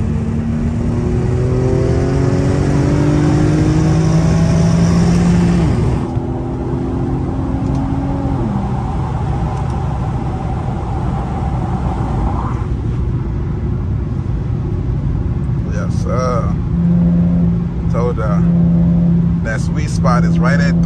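Infiniti G37 with a muffler-delete exhaust accelerating on the road, a loud rising engine drone climbing through gears with a drop between shifts, steady and close, with a voice talking over it.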